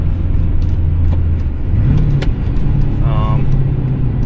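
Duramax dually pickup truck driving on the road with newly bedded rear brakes, a steady low engine and road rumble heard from the cab, loud and continuous beneath someone talking.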